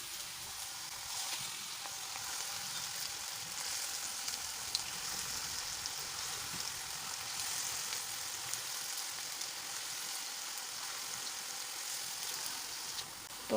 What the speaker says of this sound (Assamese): এইখিনি ৰঙচুৱা হোৱালৈকে ভালদৰে ভাজি ল'ম